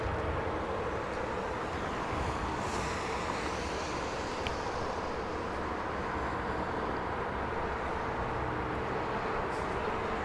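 A Boeing 777 airliner at Los Angeles International Airport gives a steady, distant broadband roar of jet engines that holds evenly throughout, with faint rushing hiss and low rumble and no talk.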